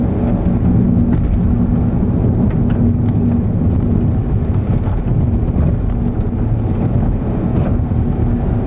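A car engine is held against its rev limiter in top gear on a fast straight stretch, producing a loud, steady, unbroken drone buried in heavy road and wind roar. No one speaks.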